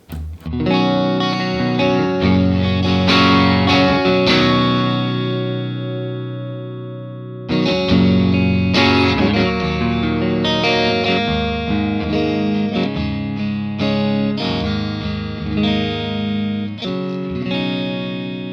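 A clean electric guitar through a Morgan AC20 Deluxe amp model on an Axe-Fx III, treble setting, plays chords and picked notes, dry with no reverb tail, pausing briefly midway before continuing.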